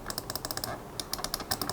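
A Logitech M171 wireless mouse clicks loudly, with a quick run of crisp, close clicks in two bursts separated by a brief pause.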